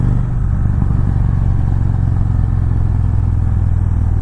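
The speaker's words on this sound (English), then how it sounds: "There's some nice backfire to this exhaust, which during your downshifts, during some of the engine braking" A 2017 Victory Magnum motorcycle coasts on engine braking through downshifts, its exhaust giving a loud, close, low rumble with scattered crackling backfire pops.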